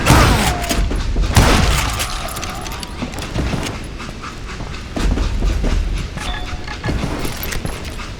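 Train rolling in the video game Call of Juarez: Gunslinger, loud rail rumble with rhythmic clickety-clack of wheels and scattered heavy thuds, no speech.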